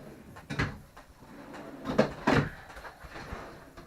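Cabinetry inside a 2016 Heartland Big Horn 3875FB fifth-wheel RV, with a large drawer sliding and thumping several times, soft knocks near 0.6, 2 and 2.3 seconds over a quiet room.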